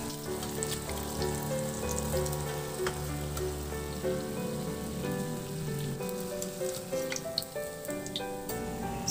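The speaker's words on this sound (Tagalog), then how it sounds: "at iprito na natin yung tokwa. Antayin lang na mag-brown yung kabilang side, saka baliktarin." Tofu fries in oil in a pan, a steady close crackling sizzle that continues throughout, with soft background music and no talking.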